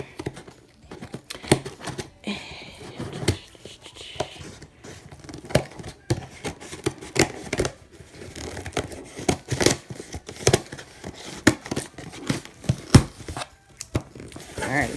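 Close-up cutting and crinkling: irregular scissor snips and sharp crackles of packaging material, busy and uneven, going on for a while without talk.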